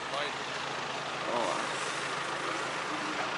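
MTZ 892 tractor driving through a field of rapeseed and wheat while spreading ammonium sulfate fertilizer, a steady loud engine drone throughout with a voice over it.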